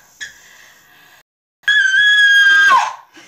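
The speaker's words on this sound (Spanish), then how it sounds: "Grita lo más fuerte que puedas." A person screams as loud as possible during a Truth or Dare game: a short, thin high cry, a pause, then one long, shrill, piercing scream that cuts off sharply.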